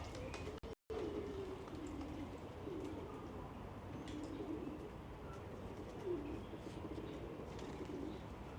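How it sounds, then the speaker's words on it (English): Pigeons coo softly in a continuous low murmur around a mosque area in Tashkent, Uzbekistan, with faint chirps and steady outdoor ambience throughout. "And there's all the pigeons there too."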